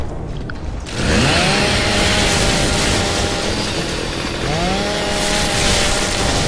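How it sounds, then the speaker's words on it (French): A chainsaw bayonet in the video game Gears of War 3 roars to life after a brief quiet start, its whining motor revving up and down continuously, loud and close. "on a une tronçonneuse intégrée, magique"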